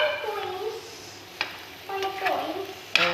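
Bitter gourd cooks in a pan without oil, with a soft hiss and a few sharp spatula knocks and scrapes against the pan, while a voice murmurs faintly in the background.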